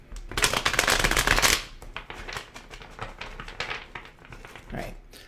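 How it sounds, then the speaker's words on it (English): A deck of tarot cards is shuffled up close, with a dense rapid riffle of crisp card flutters at the start and then softer, scattered flicks and taps as the cards settle. "One more shuffle."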